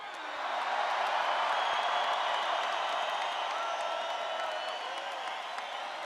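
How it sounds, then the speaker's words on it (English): A crowd at an outdoor political rally in Colorado applauds and cheers, a broad, dense wash of clapping that swells quickly and holds steady, sounding large and somewhat distant. "Give them another round of applause."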